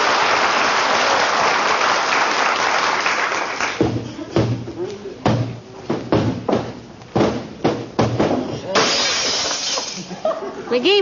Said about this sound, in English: I was just cleaning the mirror in the hall, kiddo. Slipped out of my hand.